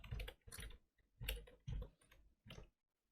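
Keys clack on a computer keyboard during a live coding session, coming in five or six short bursts of rapid clicks separated by brief pauses, close and clear with no voices.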